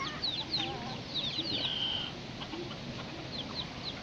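A nearly three-year-old rooster clucks softly among faint farmyard ambience, several short, high chirping clucks scattered over a low steady background, fairly distant and quiet.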